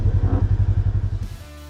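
A Polaris RZR XP UTV creeps along at about 5 mph with its diff lock engaged. The close engine rumbles in a steady pulsing beat that fades and changes near the end.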